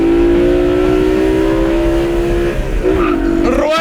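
A BMW E92 M3's 8000-rpm V8 revs hard, its loud engine note climbing steadily, then dipping briefly as the pitch resets before it pulls up again.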